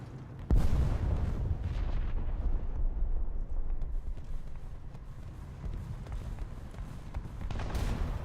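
In War Thunder a tank cannon fires an armour-piercing shell, one sharp, heavy blast near the start followed by a long rumbling decay under engine noise.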